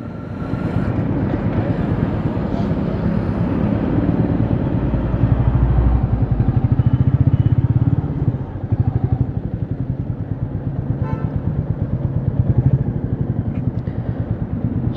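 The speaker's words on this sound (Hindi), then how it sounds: "So this is all about the royal Enfield meteor 350। Overall I am impressed with this engine with this machine." A Royal Enfield Meteor 350 motorcycle being ridden, its single-cylinder engine thumping steadily and loud close up, with wind rumble and a rise in revs midway.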